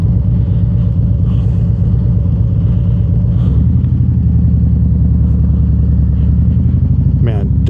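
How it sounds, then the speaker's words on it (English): A 2024 Harley-Davidson Road Glide with a Screamin Eagle Pro Street tune lugging at low revs through a town main street, a loud, deep, steady pulsing V-twin rumble that drops lower partway through, with someone talking over it. "definitely sounds like a big block Harley"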